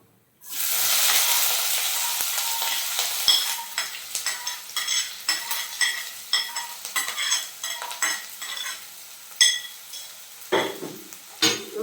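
Two finely chopped onions sautéing in a pan for a green chilli beef curry, a steady loud sizzle with frequent stirring scrapes and clinks of a utensil against the pan throughout, no talking.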